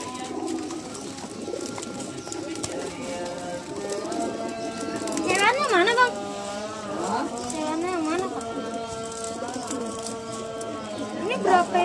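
Caged birds at Jatinegara bird market in Jakarta, where pigeons or doves coo repeatedly among other bird calls, fairly close, while people talk over the background throughout.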